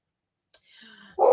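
A single sharp bark from a dog reacting to someone at the door, followed by a whining tonal yelp and then a louder burst of barking at the end, close and fairly loud in an otherwise quiet room.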